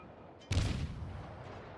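A single deep boom from a ship's main guns in World of Warships, fired from the Gremyashchy destroyer, strikes sharply and then rolls away into a fading rumble.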